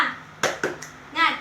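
Primary school class doing the rhythmic 'tepuk semangat' clap, a few sharp close hand claps in quick succession, with a voice before and after.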